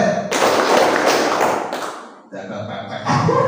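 Applause from teachers at a school training session at SMP Nurul Fallah Tanara, a dense burst of clapping that fades after about two seconds and then picks up again briefly.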